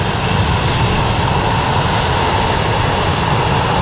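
Ryanair jet taxiing at Stansted Airport, a loud, steady engine roar and whine that holds evenly for a few seconds, close by and without any talk.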